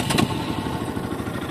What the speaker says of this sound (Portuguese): Deixa eu ligar a moto já pra mostrar.